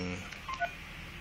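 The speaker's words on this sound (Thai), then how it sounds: "กดไปที่ เปิดยกหูโทรศัพท์ แล้วกดเลขหมาย" A telephone keypad sends a few short DTMF dialing tones in quick succession, faint against a steady background hum.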